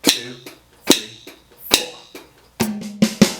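Drum fill on a kit with the right hand leading down each rack tom in linear groupings, sharp cymbal-like and tom strikes in a regular pattern, spaced hits then a denser closing run.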